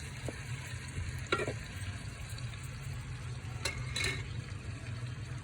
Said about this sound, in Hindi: ये हमने प्याज रख दिए, ये थोड़े से ब्राउन हो जाएंगे